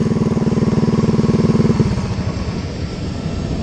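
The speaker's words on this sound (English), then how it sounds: "Oh my god, I got a 50 mile an hour fucking mini bike." A Coleman CT100U mini bike with a swapped-in engine runs close up with a rapid, pulsing putter. It is loud at first, then drops to a rougher, lower idle partway through.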